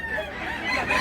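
A rooster crows once, a strained rising call close by and moderately loud, with no talking over it.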